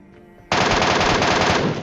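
An MK14 rifle fires a sudden rapid burst in a battle-royale video game, loud sharp repeating cracks starting abruptly after a quiet moment and continuing steadily to the end.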